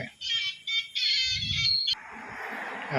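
A mobile phone rings with an incoming call, a bright electronic melody of several short bursts lasting under two seconds, then gives way to rustling background noise.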